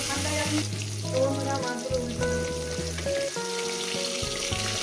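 Silver carp fish pieces frying in hot oil in a pan, a steady crackling sizzle throughout, loud and close, with background music running underneath.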